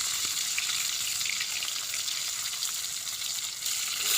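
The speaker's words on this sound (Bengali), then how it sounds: "তো এই তেলে, গরম তেলের মধ্যে মাছগুলো আগে ভাজবে" Tilapia fish coated in turmeric frying in hot oil at a village cooking fire, a steady, bright crackling sizzle that continues unbroken and close.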